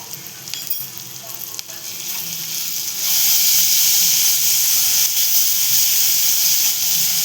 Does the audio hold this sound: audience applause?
no